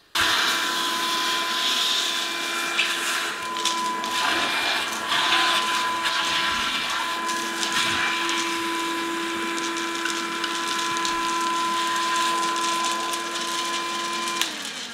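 An AIRKII 80-watt handheld vacuum cleaner runs with its extension tube and crevice tool attached, giving a loud, steady motor whine with a high tonal hum. Brief scraping and shifting sounds come through as it moves, and no voices are heard.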